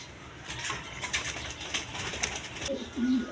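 Pigeons kept for sale coo softly amid faint background rustling and clatter, with a deeper coo rising near the end; the sound is moderately distant and unaccompanied by clear speech.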